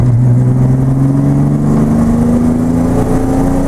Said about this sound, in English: I'm gonna do a pull in third gear from 2500 all the way to 6000 RPM rev limiter